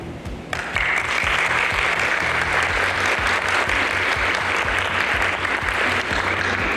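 A crowd at a cancer survivor dinner applauds steadily, a sustained wash of clapping that swells after a quiet start and continues at an even level.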